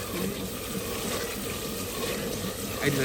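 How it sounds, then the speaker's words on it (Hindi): Water poured into a pot of cooking chana dal, a steady running pour with a bit of splash, moderately close and alone without talk. "ये देखें हमने ये डाल दिया पानी, इतना थोड़ा सा पानी और डाल दें"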